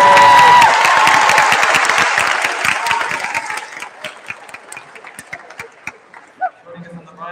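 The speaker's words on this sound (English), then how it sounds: "applause for our beginners," Audience applause at a middle school winter choir concert, loud clapping and some cheering from the crowd that starts full and gradually thins to scattered claps, with a voice starting near the end.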